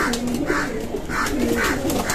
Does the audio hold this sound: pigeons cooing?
yes